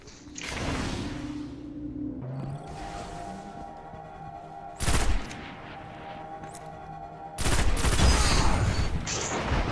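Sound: pulse rifle gunfire in the video game Destiny

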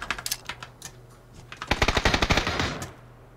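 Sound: gunshots from the video game PUBG Battlegrounds

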